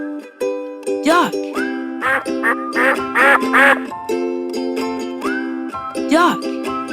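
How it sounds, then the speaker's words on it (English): A duck quacks in a string of loud, close, nasal calls, several quacks in quick bursts repeating throughout, standing alone without talk. "Duck."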